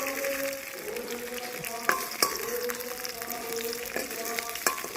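Potato pieces frying in oil for village-style aloo dum, a steady sizzle with occasional sharp clinks of a spatula stirring against the pan, close and continuous.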